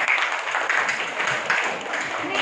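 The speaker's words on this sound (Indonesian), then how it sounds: "tepuk tangan buat kelompok 1." Students in a classroom clap for a group during a chemistry lesson, a short burst of dense, fairly close applause lasting a couple of seconds.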